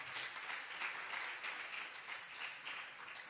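A church congregation applauds to praise the Lord after a sermon, steady sustained clapping at moderate distance throughout with no talking.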